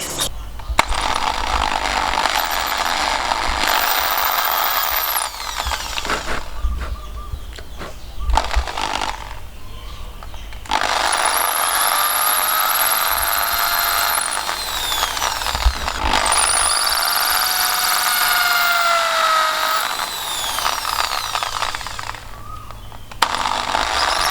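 Sanding wood while making a toy jumping frog, a loud rough power-sanding whine running in long bursts with brief pauses between passes.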